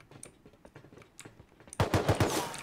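Gunfire in the survival game Rust: scattered distant single shots give way to a louder rapid burst of automatic fire near the end, with no talk.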